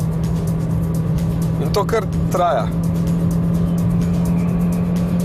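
A 2009 Chevrolet Cruze 1.8 16V petrol with six-speed automatic howls at high revs after downshifting on a motorway incline, a loud, steady engine drone with a brief stretch of talk over it.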